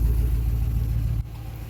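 A 2014 Dodge Charger with a Hemi V8 idling after a starter replacement, a loud close steady rumble that drops slightly in level partway through, with no voices.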